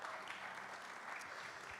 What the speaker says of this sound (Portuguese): Pode dar uma salva de palmas para ela?